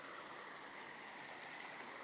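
Running water spilling through the overflow beside a canal double lock, a steady broadband rush that holds constant and fairly close throughout, with no voices.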